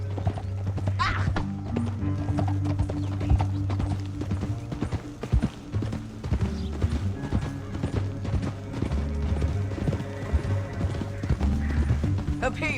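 A horse in Red Dead Redemption 2 gallops with rapid, rhythmic hoof clip-clops across the whole stretch, mixed with game ambience and a brief whinny. Voices talk over it at moments.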